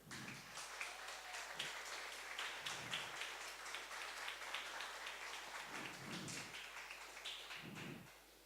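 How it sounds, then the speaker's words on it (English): Faint, steady applause from an audience at a summer game development closing ceremony, thanking the faculty: a soft, continuous patter of many hands heard from a distance, with a few low thumps underneath. "So please, a huge applause for the faculty."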